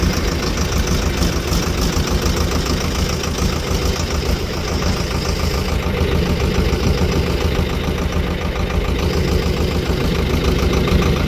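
A tractor engine runs steadily and loud at close range on a farm, a continuous low, rumbling drone with an idling, knocking pulse that holds throughout without voices.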